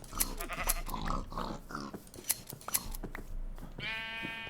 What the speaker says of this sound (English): good thing I set up a little sheep farm outside